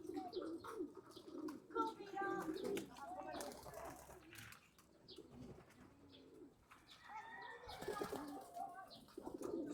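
Pigeons coo softly nearby with occasional bursts of wing flapping and faint chirps, while a person talks quietly in the background.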